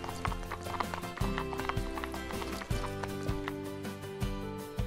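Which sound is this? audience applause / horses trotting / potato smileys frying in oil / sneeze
horses trotting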